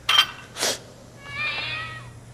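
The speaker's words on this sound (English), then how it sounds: "Just a cat." A cat meows, with two short sharp calls early on, followed by a longer drawn-out wavering meow, fairly close and clear against a low steady hum.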